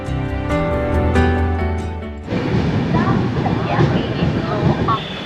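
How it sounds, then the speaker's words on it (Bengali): A train pulls into Balugaon station in Odisha: a few seconds of a sustained tonal horn-like blast, then a steady loud rumble of the moving train. "ট্রেন আমাদের এখন এসে দাঁড়ালো বালুগাঁও"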